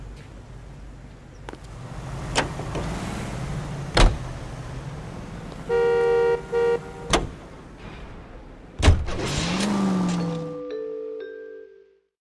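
Car sounds in L.A. Noire: a door thunks shut, a window motor whirs, several short mechanical clicks and a horn-like tone, then an engine starts and idles before fading out, with no talking.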